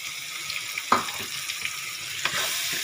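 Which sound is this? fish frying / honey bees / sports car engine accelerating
fish frying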